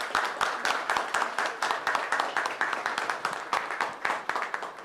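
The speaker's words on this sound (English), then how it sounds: "Huge round of applause, ladies and gentlemen." An audience applauds at the Titan SmartLab inauguration, a sustained run of dense hand clapping at moderate distance that continues steadily throughout without a clear pause.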